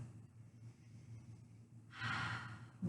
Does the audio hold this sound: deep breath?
yes